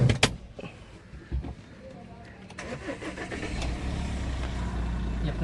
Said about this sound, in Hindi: अपना गाड़ी स्टार्ट है।